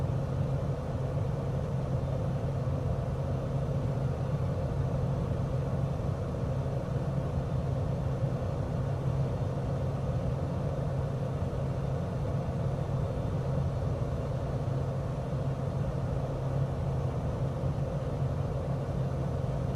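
A steady, moderate engine drone with broadband rumble from an aircraft climbing just after takeoff on a bush trip from Schwerin, Germany, in Microsoft Flight Simulator; constant and unbroken, with no voices.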